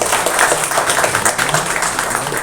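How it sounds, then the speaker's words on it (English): An audience at a hospital department's inauguration ceremony gives a big round of applause. The clapping is loud and sustained, a thick wash of many hands with slight swells. "Can we have a big, big round of applause?"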